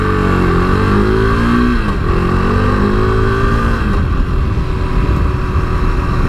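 A 2017 KTM RC390 motorcycle accelerates hard past traffic in town, its engine loud and close with rising revs and gear changes throughout.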